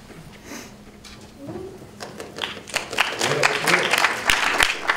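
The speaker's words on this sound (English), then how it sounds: "Applause before I even speak" Applause from a panel-discussion audience swells gradually from a quiet start into a lively round of claps, with some voices mixed in early on.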